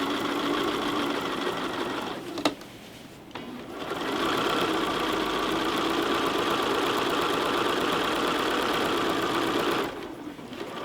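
A sewing machine quilting the center of a pillow, its motor running in a steady fast whir, stopping briefly once and then running on at an even pace.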